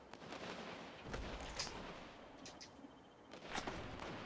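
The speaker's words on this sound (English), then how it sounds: "someone's shooting at me" Gunfire in the video game Fortnite: a few sharp, fairly distant shots against a steady rumbling background, with no talk.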